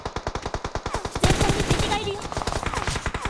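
Rapid automatic gunfire in PUBG on the Livik map, a steady stream of close sharp shots followed by a louder burst of overlapping fire and crackling impacts.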